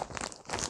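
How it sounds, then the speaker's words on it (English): Yarn packaging crinkles in a brief, faint rustle of plastic, heard alone and close. "it's crinkling"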